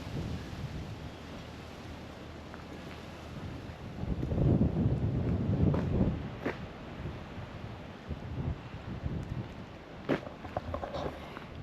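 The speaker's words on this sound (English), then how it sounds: "it's windy today, really windy" Strong wind gusts buffet the microphone in rough, rumbling surges, peaking midway, with no one talking, outside a remote outback pub by the Murray River in Australia.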